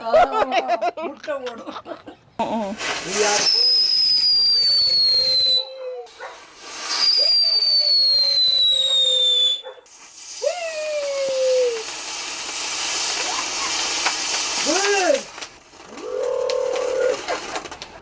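A firecracker lit on rough ground gives off bursts of hissing and high, falling whistles, several in a row with short gaps between them. Voices talk around it.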